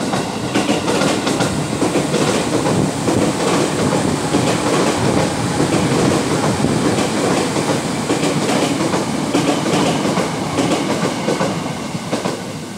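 A KRL commuter train runs past on straight double track east of Citeras station on the Rangkasbitung line, close and loud, with steady rumble and rhythmic clickety-clack of wheels throughout, under an overcast sky.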